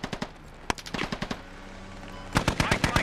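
Machine gun fire in the video game Squad on an Afghanistan map, sharp bursts of rapid shots in uneven clusters, some distant and some closer, with faint voices underneath.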